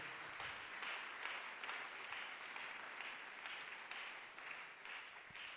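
A church congregation claps and applauds in praise to God, a steady, moderately distant wash of clapping that holds throughout, with no clear speech.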